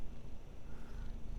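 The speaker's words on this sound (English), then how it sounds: "Can you hear him purr?" A cat's soft, steady purr rumbles continuously up close, low and even throughout.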